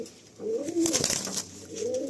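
Two female Malbai pigeons coo softly nearby, a few low, rounded calls spread across a couple of seconds, with a faint flutter of movement between them.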